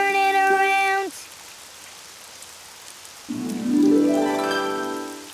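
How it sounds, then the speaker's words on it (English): Rain falls outside as a steady, soft patter. Loud tonal sounds rise over it at the start and again near the end. "Oh, it's raining outside."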